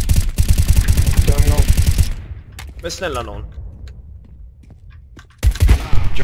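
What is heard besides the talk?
gunfire from a video game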